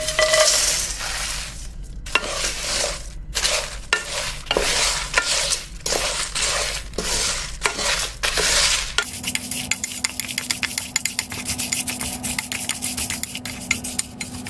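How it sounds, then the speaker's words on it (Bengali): Whole spices being stirred in a wok-like pot, a dry rattling scrape that repeats in bursts for about nine seconds, then shifts to a steadier busy clatter with a faint hum underneath; close and moderately loud, with no voices. "আমি নাড়ানোর সুবিধার্থে একটি জাস্ট কড়াইয়ের মতো একটা পট নিয়ে নিয়েছি"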